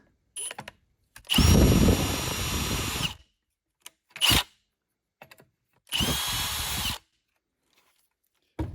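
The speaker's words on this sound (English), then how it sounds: "you can use the appropriate size Torx bit, which is a T25. So we'll just go ahead and remove these." A power driver with a T25 Torx bit backs out the carburetor mounting screws on a four-cycle Craftsman weed trimmer. Two loud whirring bursts of a few seconds each are joined by short clicks and handling noises in between.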